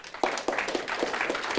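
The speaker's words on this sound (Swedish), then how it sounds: "så får ni en varm applåd för att ni ställer upp" Scattered, fairly light clapping from a small audience at a Swedish capital markets day, a few sharp claps standing out over a thin wash of hands.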